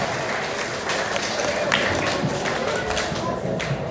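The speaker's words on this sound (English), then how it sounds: "Big round of applause for our AP for winners" Audience applause at an elementary school first-quarter awards ceremony, a steady wash of clapping from a crowd lasting the whole stretch with a few louder taps and thumps mixed in.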